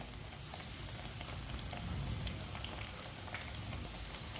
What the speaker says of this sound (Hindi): 3 से 4 मिनट में ये फ्राई हो जाते हैं